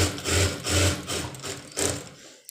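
A sewing machine stitching a one-piece dress cut from an old saree, running in three short whirring bursts with brief pauses between, close and fairly loud with no voices.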